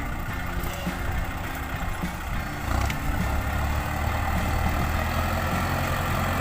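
A farm tractor engine rumbles at low pitch while maneuvering back and forth on a field being cleared for vegetable beds, its drone steady with slight shifts in load.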